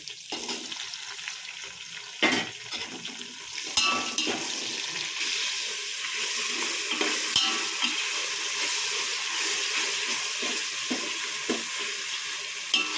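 Green chillies and spices frying in a pan for biryani, a steady close sizzle and crackle with occasional stirring scrapes, no voices.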